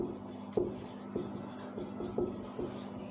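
A pen scratches across paper in short strokes during a Class 10 maths lesson on the circumference and area of circles, light taps and scrapes repeating about every half second at close range with no talk.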